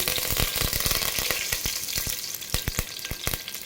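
Curry leaves crackle and sizzle loudly in hot oil in a pan, with a dense, steady frying hiss broken by sharp pops and spits throughout, close and without any talk.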